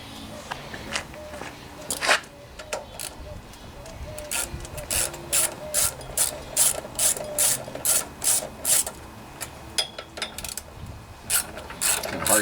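A ratchet with a 10mm socket loosens nuts on the carburetor cover of a Homelite pressure washer's Honda 179cc side-shaft engine, giving close, crisp bursts of rapid clicking in repeated strokes with short pauses between.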